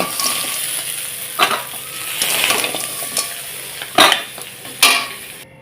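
Loud, close sizzling of whole bay leaves and cumin seeds frying in hot oil, with a spoon stirring and scraping the pan in a few sharp strokes.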